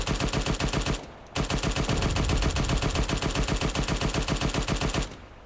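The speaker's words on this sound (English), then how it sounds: "If we get the machine gun out on the Sherman and open up on this bunker up here" A Sherman tank's machine gun fires on a bunker in a war video game, delivering two long, rapid, loud bursts of evenly spaced shots separated by a brief pause, with another short gap at the end.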